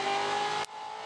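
A Holden Torana race car with a Holden 308 V8 accelerates at Hidden Valley Raceway, a loud, close, revving engine roar with a steady tone that drops suddenly to a quieter rumble partway through.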